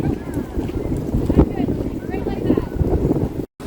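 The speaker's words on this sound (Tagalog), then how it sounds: "It's windy." Gusty wind buffets the microphone in a continuous rumbling roar, with voices faintly present beneath it.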